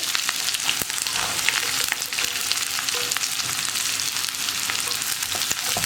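Crushed garlic with split shallots and onions fries in a hot pan for kappa biriyani, a steady, close crackling sizzle throughout with faint stirring scrapes and no voices.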